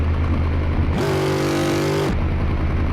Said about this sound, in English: listen to those gear shifts